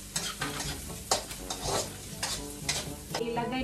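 Spices sautéing in a pan while being stirred, a steady crackling sizzle close up with repeated scraping stir strokes and clattering utensil knocks throughout.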